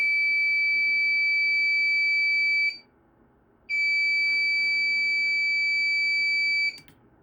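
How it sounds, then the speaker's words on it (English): An HP Z420 computer emits a steady, piercing electronic beep continuously, cuts out for about a second, then resumes before stopping abruptly. "I want the beeping to go away."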